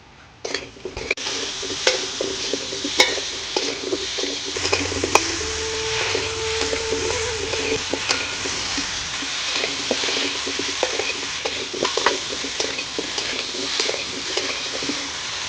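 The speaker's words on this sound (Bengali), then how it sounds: "আলুগুলো লাল লাল করে ভেজে নিয়েছি" Potatoes, seasoned with salt and turmeric, fry in oil in a pan with a steady, moderate sizzle throughout, punctuated by scattered clicks and scrapes of stirring. No one speaks.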